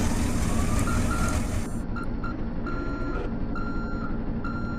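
A truck's reversing alarm beeps in a steady, evenly spaced series of tones over a loud, rumbling engine close by, with no talking.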